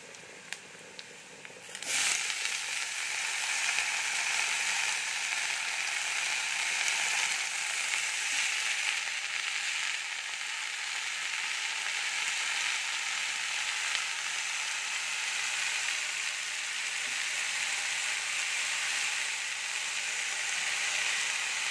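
Washed notey saag (amaranth greens) drops into hot oil and bursts into a loud, steady sizzle that starts suddenly after a quiet moment and keeps crackling evenly.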